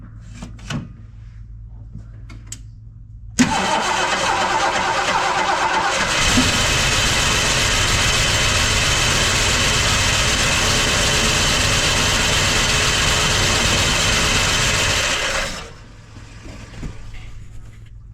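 A 1973 Ford LTD that sat parked in a barn for decades cranks briefly, then fires and settles into a loud, steady idle for about twelve seconds before shutting off, with quiet background noise around it.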